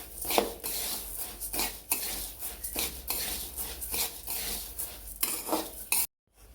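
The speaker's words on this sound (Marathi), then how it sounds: "आता आपण जे धनं घेतलेलं आहे ते भाजून घेणार आहोत ते छान भाजून घेणार आहोत" Coriander seeds dry-roast in a pan, stirred with a metal spoon that scrapes and clinks against the pan in repeated strokes, close and fairly loud, with a faint sizzle beneath; the clip ends in a brief silence.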